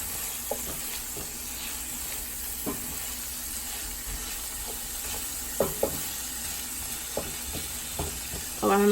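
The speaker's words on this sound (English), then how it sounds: "add in a little of this fish and meat sauce. Just a little. Mix that up in there very well" A spoon stirs fish and meat sauce through escovitch fish as it sizzles in the pan, with soft scraping strokes and a few sharper clinks over a constant hiss, and only a little talk in the background.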